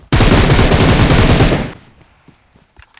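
Rapid automatic gunfire in PUBG Mobile played on an iPad 7th generation, a loud, continuous burst of shots lasting about a second and a half, then cutting off to quiet with a few faint clicks and footsteps.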